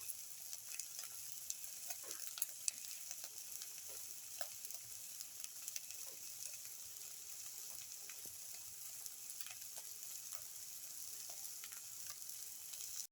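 Black pepper cashew omelette frying in a pan: a steady, soft, even sizzle with small scattered pops and crackles throughout, heard alone without talk.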